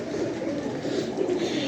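Domestic pigeons cooing around a rooftop pigeon loft, a steady soft murmur of several birds close by, continuous throughout with no talk.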